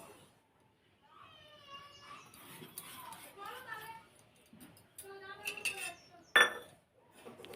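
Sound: dry-roasting semolina in a wok, spoon stirring

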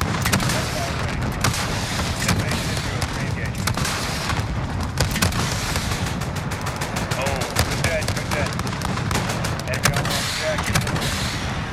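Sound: gunfire in video game Call of Duty Modern Warfare

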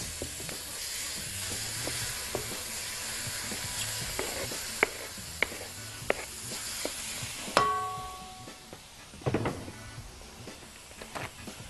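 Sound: diced liver frying with onion in a pan

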